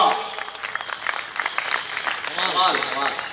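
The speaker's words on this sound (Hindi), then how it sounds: "कविता खत्म तो तो हुई ताली बजाओ" An audience at a Hindi kavi sammelan, a poetry gathering in Beawar, claps after a poem ends; the applause is a steady rush of hands beneath a voice that keeps talking over it.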